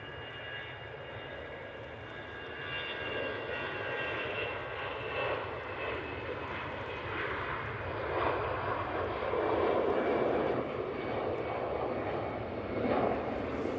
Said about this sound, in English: We've got this EasyJet now on the roll.